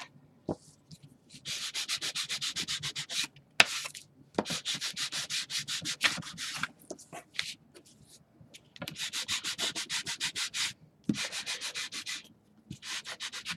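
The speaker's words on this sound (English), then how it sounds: "We're going to use the evergreen. We're going to rub right over it, right from the pad." Evergreen stain rubbed onto chipboard with a pad, heard as close, raspy back-and-forth scrubbing strokes in rhythmic bursts, separated by short pauses and occasional light taps.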